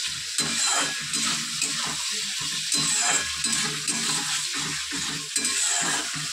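Spice masala sizzles and crackles as it fries in oil for a Bengali curry, with steady close stirring and the scrape of a spoon against the pan, and no talking.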